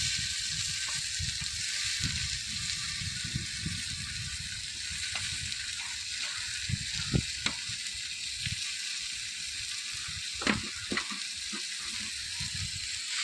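Three kilos of chopped tomatoes fry with onion and ginger-garlic paste in a large pot over an outdoor wood-fired stove beside a canal, a soft steady sizzle with occasional scraping stirs and clacks.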